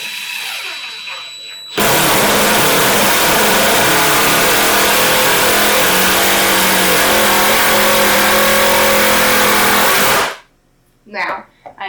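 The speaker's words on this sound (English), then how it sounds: "Just for kicks and giggles, see how the impact driver does" A Dewalt Extreme 12V subcompact impact driver runs in one loud continuous burst of about eight seconds, driving screws with a dense rattling hammer buzz, followed by a few short knocks and rustles.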